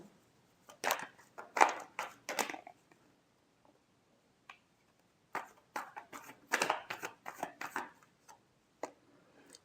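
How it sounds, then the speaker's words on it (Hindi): Tarot cards are shuffled in quick rustling, flapping bursts, one cluster early and a longer run later, separated by quiet pauses and recorded close and fairly soft. "Last shuffle."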